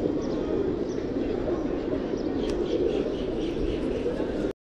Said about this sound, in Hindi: यहाँ पे काफ़ी सारे कबूतर इकट्ठे हो रखे हैं